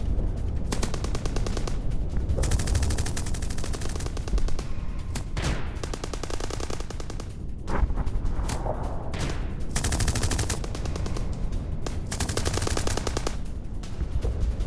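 Ukrainian forces firing on Russian positions, with dense, sustained bursts of automatic gunfire rattling almost without a break, loud and harsh throughout, no talking.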